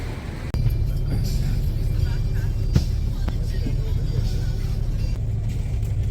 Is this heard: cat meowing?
no